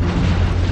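Explosion of the Hindenburg airship in New Jersey in 1937, a dense, loud roaring blast with heavy low rumble that fills the whole short moment without a break.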